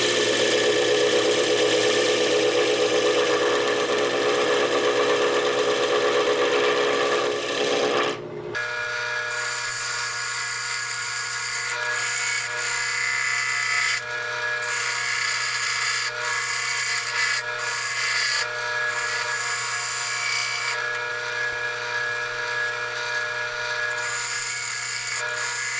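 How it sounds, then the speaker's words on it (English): A 3/4 inch bowl gouge cuts a figured ambrosia maple bowl on a lathe, giving a continuous close scraping hiss over a steady motor hum, with a brief pause and then lighter, broken cuts. "this is that great big 3/4 inch bowl gouge I got from Carter and Son, and I just want to show you the delicate work that can be done with it"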